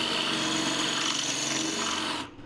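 A steady, harsh grinding whine of a somewhat dull drill bit biting into hardened metal screws, loud and continuous, cutting off abruptly near the end.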